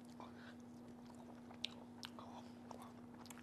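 Crisp green beans served with fried garlic-sauce pork are chewed close to the mic, with soft intermittent crunches and bites over a faint steady hum.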